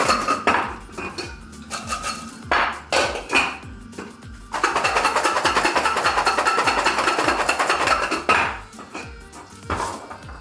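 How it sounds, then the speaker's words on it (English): Garlic cloves are shaken hard inside a closed small metal pot. Scattered metallic clanks lead into about four seconds of dense, continuous rattling, followed by a few more separate knocks. "place them into a small metal pot or something similar, close the lid and shake hard for about 20 seconds"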